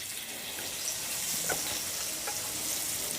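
Potato pakoras, battered potato slices, frying in hot oil, giving a steady broadband sizzle with faint crackles throughout, close and continuous with no talk.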